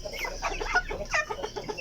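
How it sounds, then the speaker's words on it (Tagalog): A Polish hen clucks in several short, close, throaty bursts over a couple of seconds. "So itong isang to, isa po siyang Polish hen."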